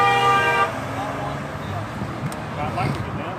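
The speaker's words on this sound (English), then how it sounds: "the people driving by start going crazy, honking their horns and stuff" Passing drivers honk at a roadside gathering on a street corner in Leon Valley, and one car horn blares steadily for about half a second before fading into traffic noise, with people talking nearby.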